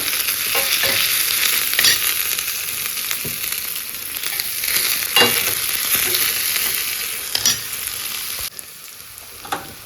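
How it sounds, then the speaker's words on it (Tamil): Onion, green chilli and ginger sautéing in hot oil with mustard seeds, a steady close sizzle and frying crackle running throughout with occasional stirring scrapes of a spatula in the pan, no talking. "இப்போ இதை நல்லா வதக்கி விட்டுடலாம்"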